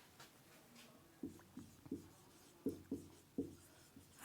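Chalk or marker strokes on a board during a physics lecture on the photoelectric effect, a series of short, separate taps and scrapes in an irregular rhythm, fairly faint and with no talking over them.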